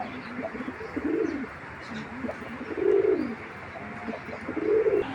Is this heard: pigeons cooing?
yes